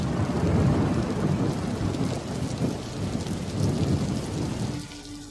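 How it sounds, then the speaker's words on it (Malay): Heavy rain pours steadily with deep thunder rumbling through it, a loud, dense wash of downpour and low rolls that holds throughout before thinning abruptly at the very end; no voices. "Tapi malam tu bang, hujan lebat."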